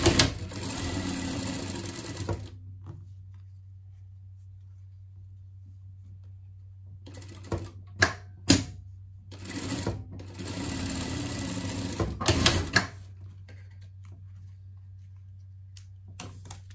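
Sewing machine stitching a hem in bursts of fast, even stitching, with long pauses, handling clicks and a low steady motor hum between the runs.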